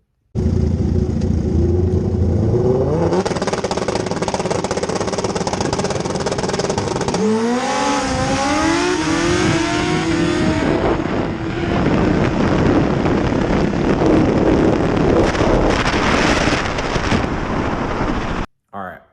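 A turbocharged Suzuki Hayabusa makes a drag race semifinal run, roaring loudly and continuously with a rising revving whine and a wind-buffeted rush that lasts nearly twenty seconds before cutting off abruptly.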